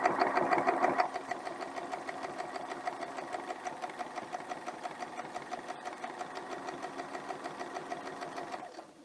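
Close up, a sewing machine stitches a quilt block in a quick, even run of mechanical needle strokes, a bit louder for the first second, then settling into a steady rhythmic patter before stopping.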